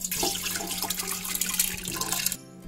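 Washed toor dal and its soaking water splash into a pressure cooker in a home kitchen, a continuous close pouring and sloshing that stops suddenly, leaving near quiet.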